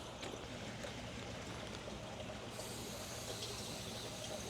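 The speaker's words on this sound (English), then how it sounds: "All right, so we got the water flowing," Water running through a Shibuya TS-405 core drill setup, a steady broadband rushing and trickling hiss that holds evenly throughout, close and continuous with no talk.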